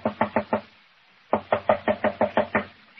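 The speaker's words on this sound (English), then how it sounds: "Knock again, if you don't mind." Knocking on a door staged as a radio drama sound effect: a run of four sharp raps, a short pause, then a longer series of about eight evenly spaced knocks, close and crisp with no voices.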